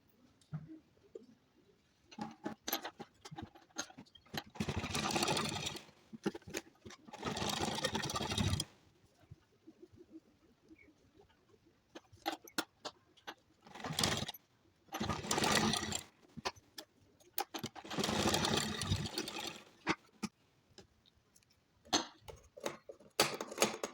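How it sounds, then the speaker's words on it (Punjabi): An electric sewing machine stitches a kurti in several bursts, each a fast close whirring rattle lasting one to three seconds, separated by quiet pauses filled with light handling clicks. "ਇਸ ਤਰੀਕੇ ਨਾਲ ਚਲੋ ਆਪਾਂ ਸਲਾਈ ਲਾਉਣੀ ਪਹਿਲਾਂ"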